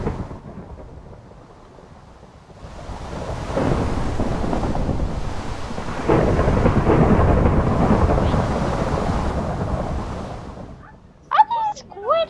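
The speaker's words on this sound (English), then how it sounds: "Enter the crazy storm" A Minecraft thunderstorm builds from quiet rain into a heavy, continuous roar of rain and rolling thunder that swells for several seconds, then fades, before a voice briefly breaks in at the end.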